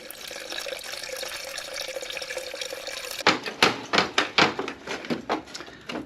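Coolant drains from the radiator of a 1975 Honda GL1000 Goldwing, first as a steady continuous pour, then breaking into a quick series of close, splashy glugs and drips.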